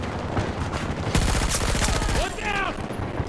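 Rapid bursts of MTAR assault rifle fire in a first-person shooter video game, loud and close, with dense repeated shots rattling over most of the clip before a brief electronic chirp near the end.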